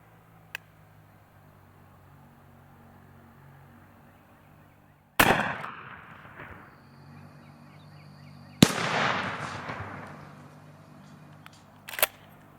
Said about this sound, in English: after shooting that 410 and the 20 gauge, I don't look forward to shooting this gun